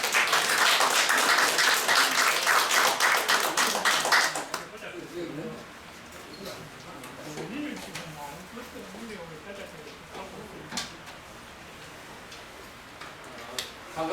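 An audience in a lecture room applauding to welcome a lecturer, a dense burst of clapping for about four seconds that stops abruptly, followed by quiet room noise and someone talking.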